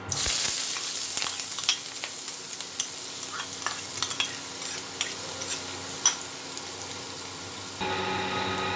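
A large onion hitting hot oil for aloo chop gives an immediate loud sizzle that settles into steady frying, with scattered stirring clicks and scrapes throughout.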